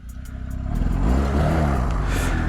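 A Honda Rebel 125 motorcycle engine fires up and settles into a steady, loud idle rumble at close range, starting softer and building over the first second with a faint clatter on top.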